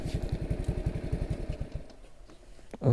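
Small "jangkrik" motorcycle engine idling nearby with a quick, even putter of pulses, then fading quieter before a brief louder noise at the end.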